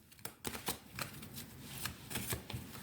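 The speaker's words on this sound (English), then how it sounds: "We're going to shuffle the cards." Tarot cards being shuffled by hand, a series of soft riffling bursts and crisp flicks in an irregular rhythm, close and quiet with no talking.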